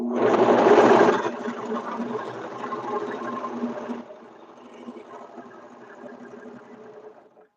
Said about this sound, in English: Make sure I don't surge the fabric underneath.